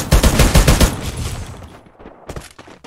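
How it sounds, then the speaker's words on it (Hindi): AR rifle firing in a mobile battle-royale shooter game: loud, rapid bursts of automatic fire in the first second, then quieter scattered shots and a short final volley. "एआर गन चला रहा भाई, ये तो गलत है"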